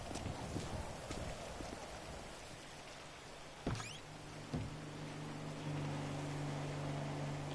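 Rain falls in GTA Online as a quiet, steady hiss of drops. A few sharp knocks and a low droning hum join it partway through, with no one talking.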